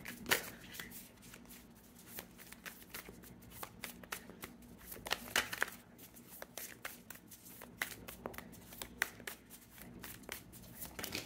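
A tarot card deck being shuffled by hand, with repeated quick riffling bursts and soft slaps of the cards, close and fairly faint, with no speech.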